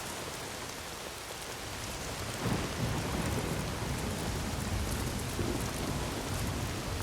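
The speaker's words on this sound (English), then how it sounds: "seeing as this game takes place in Oregon, expect tons of rain" Steady heavy rain hisses throughout in the video game Days Gone, set in Oregon, with a deep rumble of thunder rolling in partway and lingering low beneath the downpour.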